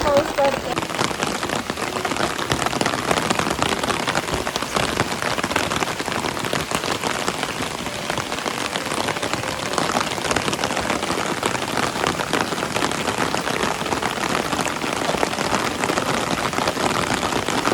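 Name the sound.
heavy rain falling at temple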